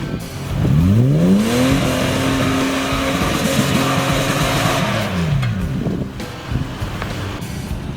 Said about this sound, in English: And now it's Jamie's turn in the two-wheel drive 80 series